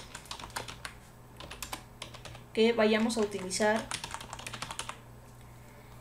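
A computer keyboard clatters with quick, irregular keystrokes while an email address is entered; a short stretch of speech rises over the typing midway before the clicking carries on alone.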